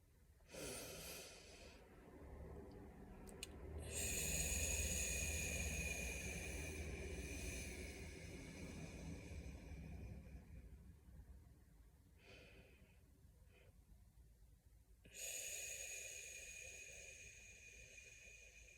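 A person takes deep, slow breaths close to the microphone, with long airy inhales and exhales separated by quiet pauses and no talking.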